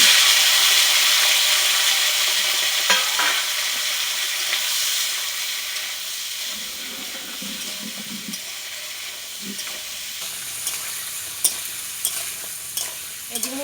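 Figs sizzle and fry in hot oil in a pan after a bay leaf and cumin tempering, with a steady close crackle and occasional stirring scrapes throughout.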